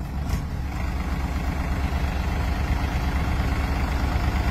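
Farmtrac and Mahindra tractor diesel engines idle at 1000 rpm, a continuous low, throbbing rumble, close and steady without talk.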